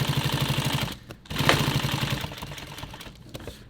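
A sewing machine stitches a nylon tactical pouch, running in a fast steady mechanical chatter up close, pausing briefly near one second, then resuming and gradually easing off.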